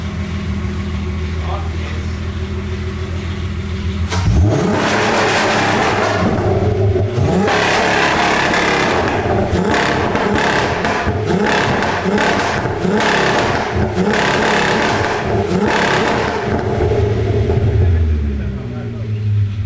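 A BMW engine revs hard on two-step launch control, a loud idle rumble building into repeated sharp rev bursts with crackling pops and bangs from the exhaust, close by, with voices talking underneath.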